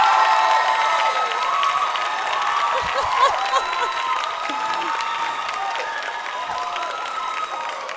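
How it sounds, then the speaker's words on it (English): An audience at a corporate leaders' opening ceremony claps steadily for several seconds, with scattered cheers and crowd murmur mixed in. "Are you satisfied with that applause?"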